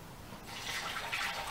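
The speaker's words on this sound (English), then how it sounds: "I usually fill them up about a third with flush chemical" A/C flush chemical pours through a funnel into a flush gun, a steady close liquid trickle that grows slightly louder toward the end, with no voices.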